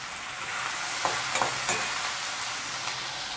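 Chopped green capsicum is added to a frying pan for pasta and stirred, giving a loud, steady sizzle with a few scraping stirs near the start.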